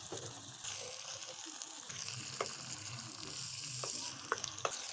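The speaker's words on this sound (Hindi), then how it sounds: "प्याज के साथ इसको हम फ्राई करेंगे।" Crushed garlic and onion fry in a pan with a steady, fairly quiet sizzle, broken by a few sharp pops and light stirring scrapes, without talk.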